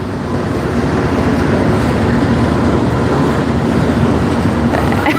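A train passing close by, with a loud, steady, continuous rumble and roar that keeps going without a break and no voices over it.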